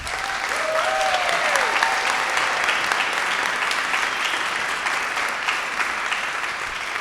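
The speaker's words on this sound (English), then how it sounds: "can we get one more round of applause for the chefs?" An audience applauds the chefs after a meal at a food event, sustained loud clapping lasting several seconds, with a voice briefly heard at the start.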